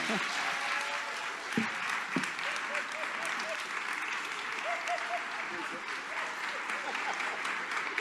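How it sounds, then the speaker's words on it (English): Sustained audience applause follows the introduction of a presidential candidate, an even wash of many hands clapping for the full length at a fairly low, distant-sounding level, with traces of talk beneath it. "Round of applause, please."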